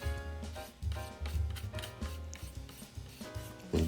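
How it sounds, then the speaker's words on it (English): Rhythmic scraping strokes rasp across a wooden picture frame, about eight in quick succession, close and fairly loud with no talking. "A little more scraping."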